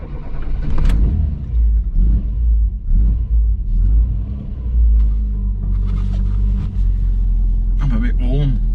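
Engine of a 1985 Ford Fiesta 1.1 Popular Plus driving along a narrow lane: a steady low rumble with rising and falling revs throughout, plus brief knocks and rattles near the end.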